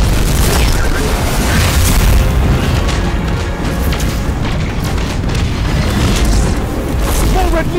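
A missile explosion in Destiny 2 sets off a dense, continuous roar of booming blasts and crackling debris, loud and close for the whole stretch without any clear pause.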